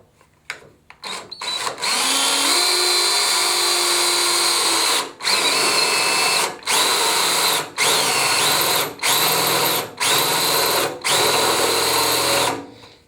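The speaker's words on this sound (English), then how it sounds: "basically going to drill these guys out and then make a cut" A power drill bores through sheet metal on a 1997 Mustang SN95 radiator core support, whining loudly and close in sustained bursts separated by short pauses, with no talking over it.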